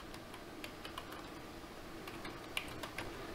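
Soft typing on a computer keyboard during IT network administration work, with faint scattered key clicks in an uneven rhythm and one slightly louder tap, all quiet and close.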